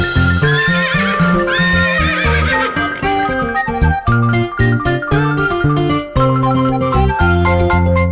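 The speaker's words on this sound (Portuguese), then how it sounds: "Era cavalo pra cá e cavalo pra cá, cavalgando pra lá e pra cá." Cartoon horses on a farm neigh and whinny over clip-clopping hooves, set within a bright, full children's nursery-rhyme music backing that plays continuously and loudly throughout.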